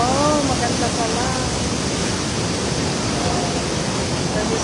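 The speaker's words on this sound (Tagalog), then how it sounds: "That is the falls." Waterfall at Geiranger, Norway, seen from a cruise ship, giving a steady broad rushing roar that fills the whole clip, with faint voices and a brief whistling tone early on.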